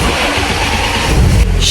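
A BMW E36's engine runs at a steady idle, its low rumble close and loud, then gives a brief rise near the end; a fault with a broken rubber part affects its idle, and no one speaks.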